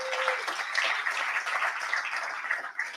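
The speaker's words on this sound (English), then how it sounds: "Give yourselves a round of applause." A conference audience at a veteran business summit gives a round of applause, a brisk, even wash of many hands clapping close by for a few seconds, fading slightly at the end.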